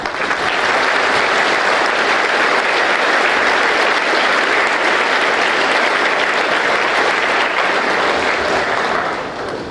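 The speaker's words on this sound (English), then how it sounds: "we can give the young man a round of applause as he crosses the stage" Sustained, loud applause from an audience at a school junior prizegiving as a student crosses the stage, a dense even roar of clapping lasting about ten seconds before tapering slightly.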